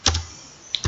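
A few quick, close computer keyboard keystrokes while Java code is typed: two taps at the start and two more near the end, with a short quiet gap between them.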